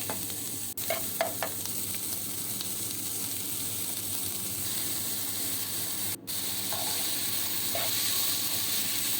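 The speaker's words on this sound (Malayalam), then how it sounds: "സവാള ഇട്ടിട്ട് നന്നായിട്ട് വഴറ്റുക" Sliced onions with ginger garlic paste sizzle steadily in a hot pan for chicken curry, a close, continuous frying hiss with a few light stirring clinks.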